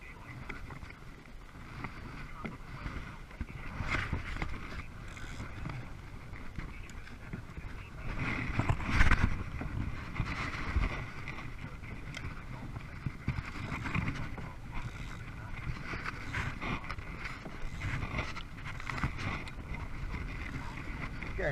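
Strong wind buffets the microphone of a kayak five miles offshore on a choppy sea, a constant roaring rush that swells and gusts louder around the middle, with water sloshing underneath.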